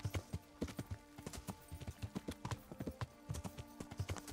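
Horse hooves clip-clop in quick, steady rhythm in the video game Kingdom Come, a close trotting gait heard alone with faint background ambience.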